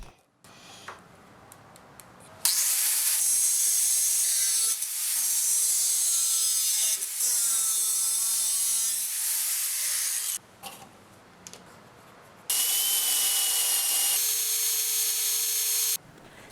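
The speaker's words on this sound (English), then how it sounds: "I'll clamp the scales in place and drill the holes through them as well." Drilling through clamped knife handle scales runs in long, steady bursts of high-pitched whine separated by short pauses, close and loud, with faint tapping between passes.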